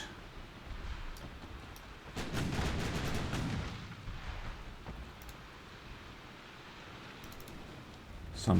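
Naval guns firing at long range in a naval war game set in a Korean campaign, distant muffled booms with a rumbling swell in the middle, faint and spaced out over a low steady background.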